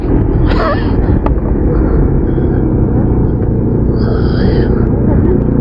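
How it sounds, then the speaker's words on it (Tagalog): A motorcycle rumbles steadily through a tunnel in Benguet, a loud, close, enveloping engine drone with booming low end, while a rider talks over it. "Ito na yung tunnel."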